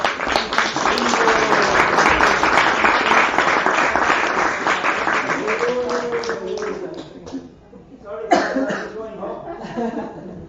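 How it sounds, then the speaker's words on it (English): An audience at a Bhagavad Gita discussion and kirtan gathering applauds in a sustained, dense patter that fades out, followed by a brief renewed burst of claps and coughs, with speech mixed in. "You can give her a clap"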